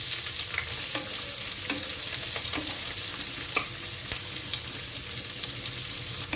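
Two medium chopped onions fry in oil in a pan after spices for a Bengali doi chicken curry, giving a steady close sizzle with frequent scraping stirs throughout.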